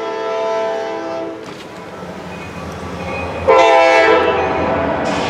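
A CSX northbound freight train led by an SD70 locomotive with an SD40-2 behind, a loud horn blast sounding over rolling rail noise that swells sharply midway as the train draws near.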